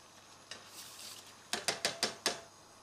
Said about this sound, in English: now I have a pan of boiling water, and all you need to do is pop your rice straight in